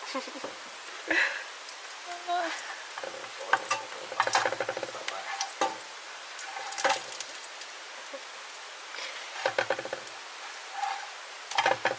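Olive oil and food sizzle and crackle in a hot pan with intermittent stirring scrapes and pops, near and moderately loud, in a home kitchen setting.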